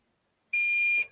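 A fire alarm panel sounds in alarm, a steady high electronic tone that starts abruptly, holds loud and even for about half a second, then cuts off with faint background noise after.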